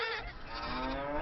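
Buffaloes on a farm give a single long, low, drawn-out moo that fills the whole moment, fairly close with no talk over it.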